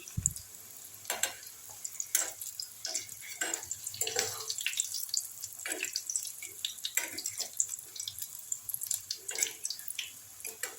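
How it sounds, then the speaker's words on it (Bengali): Koftas frying in hot oil, gently turned over one by one: a quiet, steady sizzle and crackle with soft scraping and clinking from the flipping, at low volume throughout. "একটা সাইড খুব ভালো করে ভাজা হয়ে গেলে আমি কোপ্তাগুলোকে আস্তে আস্তে করে উল্টে দিচ্ছি"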